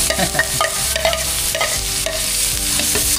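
Garlic frying in cooking oil in a pan, a steady loud sizzle with repeated stirring scrapes and utensil clinks throughout, no voices.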